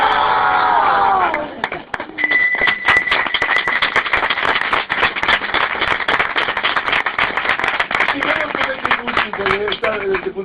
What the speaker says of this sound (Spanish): hacemos un grandísimo aplauso y un grito católico a nuestro John